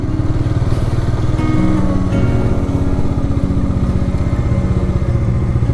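A motorcycle engine runs loud and close at a low, steady idle with a rhythmic chugging throb while the bike is brought to a stop on a monsoon trip to Ajodhya Hill, Purulia.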